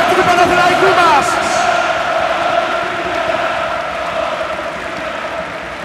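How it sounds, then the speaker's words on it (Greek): A basketball arena crowd applauds and cheers a Panathinaikos player during an award ceremony, a loud, dense wash of clapping that fades slightly toward the end. "Ένα χειροκρότημα για ένα πολύ μεγάλο παίκτη του Παναθηναϊκού μας!"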